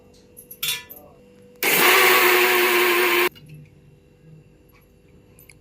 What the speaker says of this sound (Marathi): आता हे डाळ तांदूळ वाटून घेऊया.